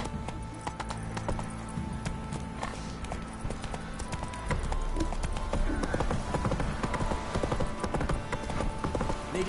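A horse in The Witcher 3 gallops at a brisk pace, with rapid, regular hoofbeats that grow louder midway and continue to the end.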